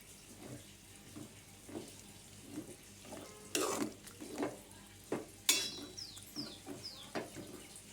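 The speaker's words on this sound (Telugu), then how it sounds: "ఇప్పుడు ఇందులో ఒక గ్లాస్ వాటర్ వేసుకోవాలి." Water goes into a pan of cooking tomatoes and fenugreek leaves, with a few short splashing bursts midway and light kitchen clatter around them, fairly faint and without talk.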